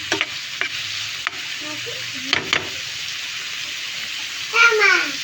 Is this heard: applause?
no